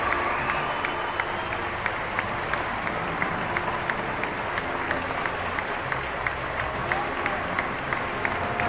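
A crowd of some 2,400 faithful welcomes the Pope with steady applause and cheering, a broad continuous wash of clapping heard from a distance under an ongoing voice.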